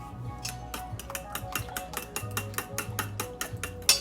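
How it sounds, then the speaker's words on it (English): A utensil stirring breakfast casserole ingredients with Italian seasoning in a bowl: a quick series of light clinks and taps against the bowl, about three or four per second, close and fairly quiet, with no talking. "we're going to mix this again"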